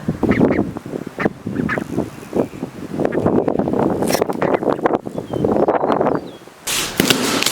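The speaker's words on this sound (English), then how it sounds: "There's our 3 little ducklings." Three small ducklings quack outdoors in quick, repeated short calls over wind noise.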